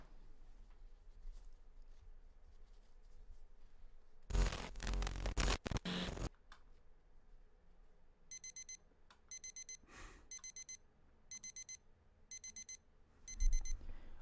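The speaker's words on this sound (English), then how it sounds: "the alarm next to me blaring in my ear non-stop" Electronic alarm clock in a Doki Doki visual-novel mod, beeping in six loud repeated bursts of rapid tones near the end, following a burst of louder noise earlier.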